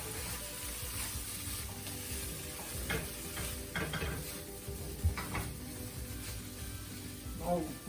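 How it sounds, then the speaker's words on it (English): Ragi vermicelli with lemon juice is stirred in a pan just after the stove is turned off, with steady soft scraping and a gentle sizzle, a few utensil knocks, and a voice talking over it. "I turn the stove off and then almost squeeze in half a lemon into it. Then mix it up again"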